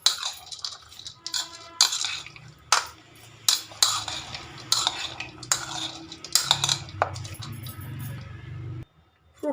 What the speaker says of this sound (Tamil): இப்போ இது எல்லாத்தையும் நம்ம நல்லா ஒன்றா மிக்ஸ் பண்ணிக்கலாம்